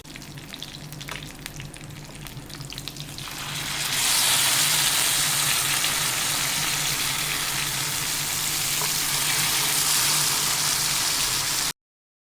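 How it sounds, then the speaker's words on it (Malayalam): Pearl spot fish fries in hot oil in a pan, a loud close sizzle that starts moderate and swells into a dense, steady crackling hiss after a few seconds, running unbroken to the end with no talking. "ഇനി നമുക്ക് തിരിച്ചും മറിച്ചിട്ട് ഇതിനെ ഒന്ന് ഫ്രൈ ചെയ്തെടുക്കാം."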